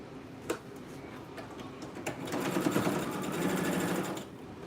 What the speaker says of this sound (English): I'm gonna be turning up the sleeve and stitch